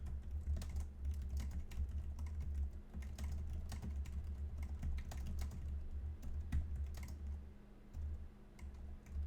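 Rapid, close computer keyboard typing on a Mac goes on continuously, a dense patter of sharp key clicks over a low steady hum.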